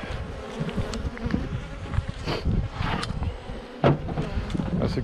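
Honeybees buzzing in a thick swarm up close at a hive in December, a constant droning hum with occasional sharper wing whines and light bumps.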